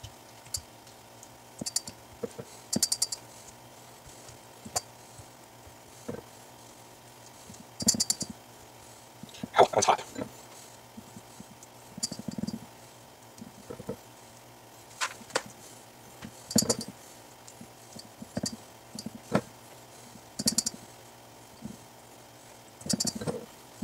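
A knife chops through hard-boiled eggs in short, irregular clicks and taps against a board, close up and fairly quiet, with a faint background hum and no talking.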